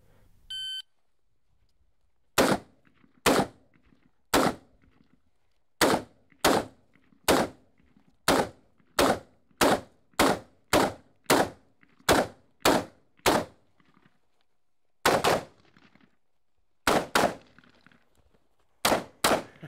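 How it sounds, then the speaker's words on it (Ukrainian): Rapid gunshots crack out at a tactical shooting competition, about nineteen sharp, loud reports in irregular quick strings after a brief electronic start beep, with near silence between them. "У нас 19 пострілів."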